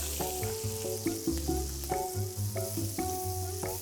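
Ingredients for sambal mata fry and caramelize in a hot pan, giving a continuous soft sizzle under a steady tonal background with a stepped melody, close and even in level.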